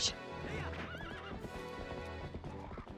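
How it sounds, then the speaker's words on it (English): Epona, the horse in the video game Twilight Princess HD, gives a sharp whinny over clip-clopping hooves, all clear and prominent against the game's background music. "like Epona's hooves cut the grass, like the sword does"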